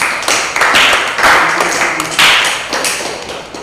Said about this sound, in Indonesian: Berikan aplaus untuk kelompok 3.